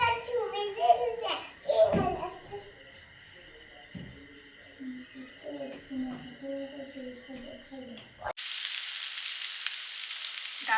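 Sajne data (drumstick pods) fry in mustard oil. Voices, including a child's, chatter with clatter for most of the stretch, then a loud, close hiss of sizzling oil bursts in abruptly and runs steadily to the end.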